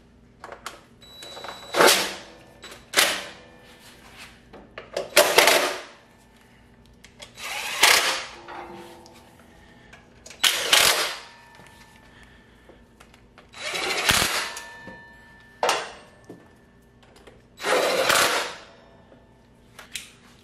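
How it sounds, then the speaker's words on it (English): Bolts are driven back into a Kawasaki FR730V engine with a power tool in short separate bursts, about nine whirring runs of a second or two each, close-up, with quiet pauses between. "Then we'll put our bolts back in."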